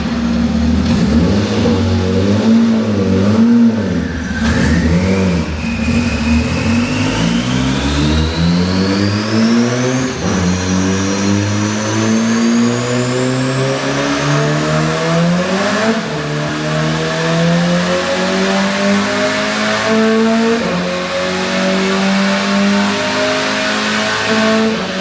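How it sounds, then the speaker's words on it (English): A turbocharged K20-swapped Ferrari on a dyno, the engine pulling hard through its rev range with a loud, rising whine and climbing pitch, easing off briefly before sweeping up again. "Here comes some dyno pulls."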